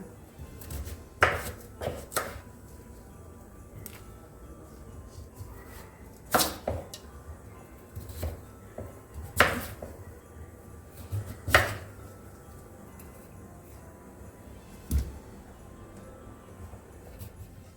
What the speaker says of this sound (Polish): buraczki pokroję na drobniejsze części, na mniejsze